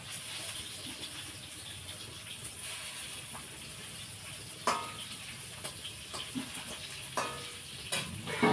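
Fish fries quietly in a pan with a steady soft sizzle, broken by occasional sharper spatters and scraping stirs, all fairly faint and close.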